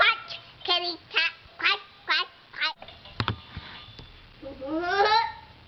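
A voice imitates a duck with a string of five nasal quacks in a quick rhythm, followed by a brief clatter and a longer drawn-out quacking call, close and clear.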